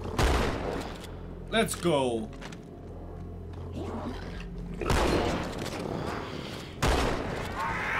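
Shotgun blasts from Halo 2 Anniversary gameplay: loud, punchy broadband bursts near the start and again around the five- and seven-second marks, over a steady game background, with someone talking briefly.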